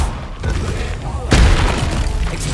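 Incendio fire spell cast in Hogwarts Legacy, a heavy whooshing burst that swells sharply partway through over constant loud game ambience.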